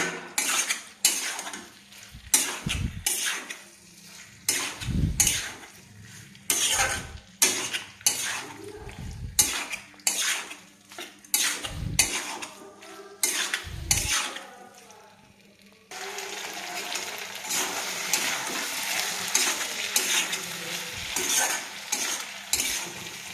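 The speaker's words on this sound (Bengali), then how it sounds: "ভালোভাবে একে মশলার সাথে একটু কষে নিতে হবে সয়াবিনটাকে।" Soybean chunks get stirred and fried with spices in a pan, with repeated scraping and clinking of a utensil against the metal over a soft sizzle that grows louder and steadier toward the end.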